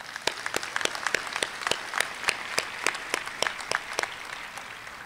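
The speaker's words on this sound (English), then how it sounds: "Let's please give them all a round of applause." A graduation commencement audience applauds, sparse distinct claps ringing out in a loose rhythm, fairly distant in a large hall.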